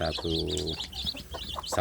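Young free-range chicks in a box chirp and cheep close up in short, rapid bursts, a few overlapping peeps, fairly faint.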